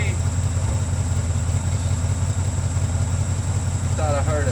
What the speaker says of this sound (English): thought I heard a hollow exhaust note.